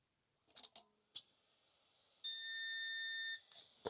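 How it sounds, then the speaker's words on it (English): An RC car's electronic speed controller emits a steady electronic calibration beep lasting about a second, loud and clear, with some clicks and handling noises before and after it. "That was a beep."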